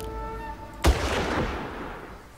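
A single loud mortar blast in the Far Cry shooter game, a sharp boom with a rumbling tail that slowly fades over a couple of seconds, set against steady background game noise.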